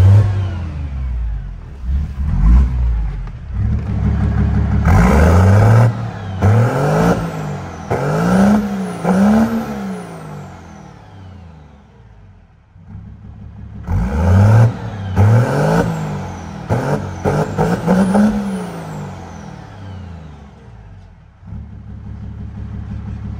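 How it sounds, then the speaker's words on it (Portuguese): A 2005 Ford F250 XLT pickup with a tuned 509 hp engine and sport air filter revs hard in two loud, close bursts, each a series of rising and falling throttle blips over a rumbling idle. "Olha o barulho dessa caminhonete"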